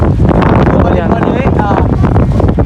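Loud, gusty wind buffets the microphone in a continuous roar during outdoor kite flying, with faint voices partly buried underneath.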